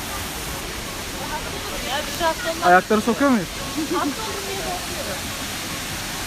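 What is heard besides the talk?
waterfall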